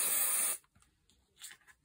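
A short, loud hiss of Crafter's Companion Spray and Shine gloss varnish from an aerosol can lasts about half a second, followed by faint rustling.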